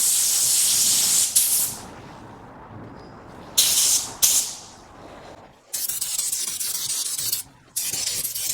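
A spray gun applies a third coat of paint to a car panel in a cold-weather spot repair. Several bursts of close, sharp hissing are separated by quieter gaps, with no voices.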